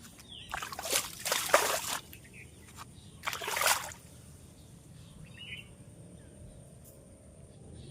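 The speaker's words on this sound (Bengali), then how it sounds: "এই যে এতগুলো মতো পালং শাক পেয়েছি, কাদায় ভর্তি, এই জলেই ধুতে হবে।" Muddy spinach is swished and rinsed in rainwater outdoors, giving two close bursts of splashing and sloshing followed by quieter trickles, with faint birds in the background.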